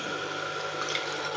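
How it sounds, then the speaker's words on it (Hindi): Water poured into a pot of fried potatoes while making potato biryani, a brief steady splashing stream, close and clear with no talking. "अब इसमें पानी ऐड करते हैं"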